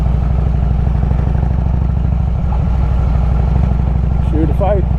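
A heavy Harley-Davidson Road King motorcycle idles and rumbles steadily while riding off pavement near a stream, its engine pulsing close and loud throughout, with a brief faint voice-like sound near the end.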